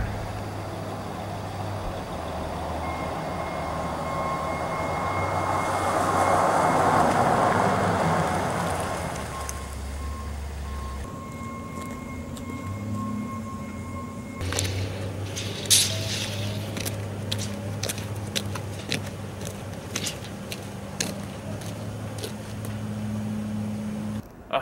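A 2002 Toyota Tacoma pickup with a 3-inch lift, custom front bumper, 35-inch tires and Tundra brakes drives on a road, its engine droning steadily, then easing off as clicks and crunches follow while it slows, with no talk.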